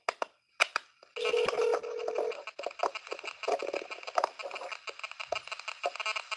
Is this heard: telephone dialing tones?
yes